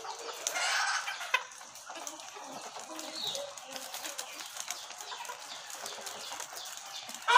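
KUB native Indonesian chickens cluck and call on a farm, a steady scatter of moderate, fairly close bird sounds with a louder burst near the start.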